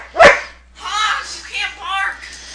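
A dog gives one sharp, close bark, then a person talks on over a quiet background.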